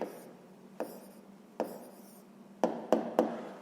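Close pen-on-paper writing of an answer to a sixth-grade math exercise: a few spaced scratchy strokes, then a quicker cluster of three at the end, quiet with no voices.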